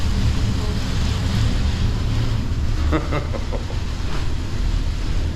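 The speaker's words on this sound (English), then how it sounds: "the wind is pretty intense" Intense storm wind roars continuously near Pompeii, a loud buffeting rush against the building with faint rattles and knocks mixed in, no voices.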